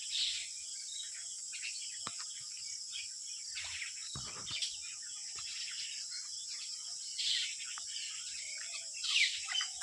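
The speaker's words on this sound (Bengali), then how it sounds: "কিছুক্ষণ আগে অনেক পাখিগুলো ছিল, এখন যাওয়া আসা করছে" Birds chirp outdoors at a roadside shop spot among open surroundings, scattered faint high calls over a steady insect-like hiss, with a brighter burst of chirps near the end.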